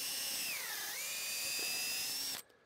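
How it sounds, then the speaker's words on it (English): Power drill boring a tap hole about an inch into the sapwood of a maple tree outdoors: a loud, steady high-pitched whine that dips in pitch midway, then stops abruptly. "I'm gonna drill about an inch into the outer white wood of this tree"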